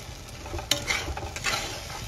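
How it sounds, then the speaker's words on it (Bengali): A cauliflower curry with coconut-cashew paste, yogurt and a little sugar is sautéed in a pan, giving a close, steady sizzle broken by a few sharp spoon scrapes and stirring sounds. "আবারও ভালো করে কষিয়ে নেব।"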